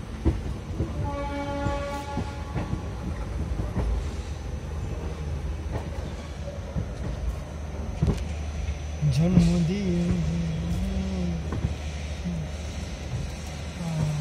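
A train rumbles and clatters steadily at Old Delhi railway station, with a drawn-out horn blast near the start, brief voices and station bustle in the background.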